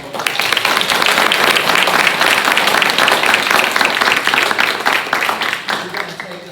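A forum audience claps loudly for the candidates, dense sustained applause from a full room that stays strong for several seconds, then tapers toward the end with some voices mixed in.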